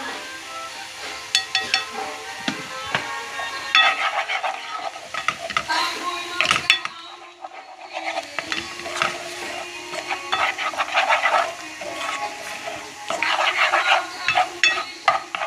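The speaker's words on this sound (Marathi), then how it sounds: "मातशें वयर भाज दिया." Masala for Goan fish curry sizzles in a pan while a spoon stirs and scrapes it in repeated bursts, with a short lull midway; close and steady, with no talking.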